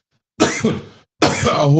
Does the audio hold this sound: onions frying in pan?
no